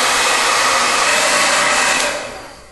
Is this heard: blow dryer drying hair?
yes